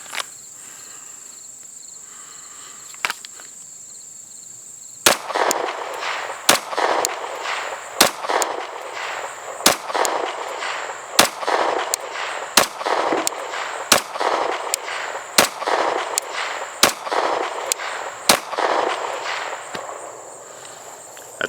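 A Sig Sauer MK 25 pistol fires ten sharp, loud shots at a steady pace outdoors, each crack standing out clearly over a constant insect drone in the background.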